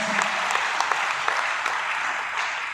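Sustained applause from an audience at a business plan presentation, dense steady clapping filling the moment without pause, fairly loud and close.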